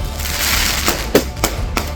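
Firecrackers set off on a street in Madhya Pradesh, heard as four sharp, loud cracks spaced irregularly over a steady background hum, with no talk.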